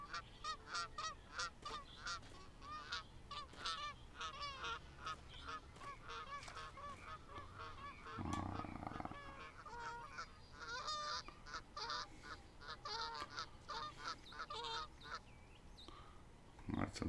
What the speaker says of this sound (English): Some ducks or something out there with us today.